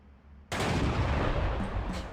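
Artillery fire in Steel Division II arrives as a sudden loud blast that swells into a dense, sustained roar of overlapping detonations and crackling, with no voices over it.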